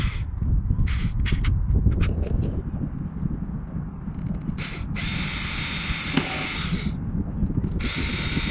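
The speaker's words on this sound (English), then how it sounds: "So I guess I'm gonna start drilling away." A power drill bores holes for a front lip install on a Subaru WRX, a steady grinding whir with bursts of higher-pitched drilling over a constant low rumble, close and loud.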